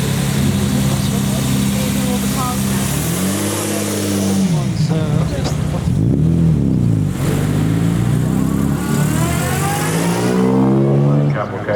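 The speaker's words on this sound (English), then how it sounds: "Cavalcade going up the hill now." A cavalcade of vintage cars including a 1955 Jaguar XK140 drophead climbs a hill, engines droning loud and close with rising and falling revs as they pull past, a voice talking over them.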